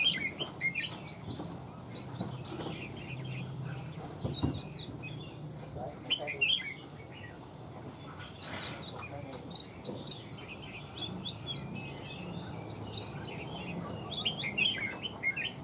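A caged Chinese hwamei songbird sings in bright, varied bursts of chirps and warbles, fairly close, with someone talking intermittently underneath and a steady background hiss.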